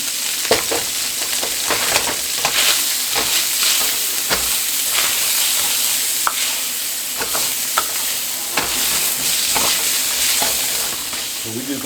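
Spam sizzles and fries in sesame oil in a pan, with a steady loud crackle and occasional stirring scrapes that run throughout, and no talk.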